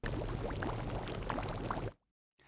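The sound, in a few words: bubbles noise recording in Massive X synth noise generator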